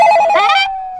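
A telephone rings late at night in a home, a single loud electronic ring burst that cuts off and leaves a fading tone, with no talking over it.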